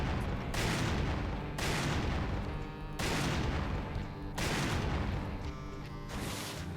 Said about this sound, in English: I love how those little bullets explode.